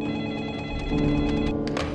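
A telephone rings in a scene from a horror film based on an urban legend, a close, repeated electronic trill over a low background.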